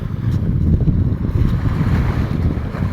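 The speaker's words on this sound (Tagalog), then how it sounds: "mataas yung alon" High waves on the shore crash and rumble beneath heavy wind buffeting the microphone, a loud, continuous low roar with no voices.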